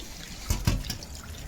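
Water trickling from a roof gutter, a soft wet dribble with two or three brief splashy bursts close by over a faint steady background, no voices.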